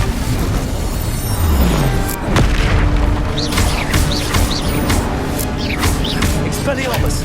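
Confringo blasting spells from Hogwarts Legacy, a series of sharp magical bursts and booms with whooshing streaks, loud and close over a busy battle soundscape.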